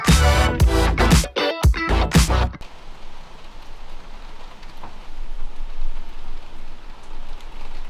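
Heavy rain pours down in a dense, steady hiss that fills the scene after a few seconds of louder, choppy sounds at the start.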